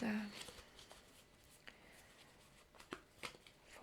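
Soft riffling and flicking of cards being shuffled up close, in quiet irregular bursts with a few sharper snaps.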